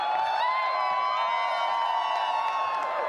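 A large arena crowd at the Dota 2 International grand final roars continuously with whoops and shouts, a loud, sustained wall of cheering with no pauses.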